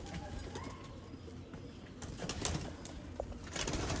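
Golden breeder hen pigeon cooing softly in a loft, low repeated coos over a steady outdoor background with faint rustling.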